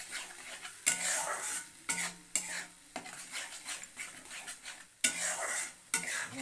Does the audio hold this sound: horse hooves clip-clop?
no